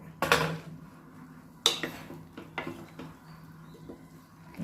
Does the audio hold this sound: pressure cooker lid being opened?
yes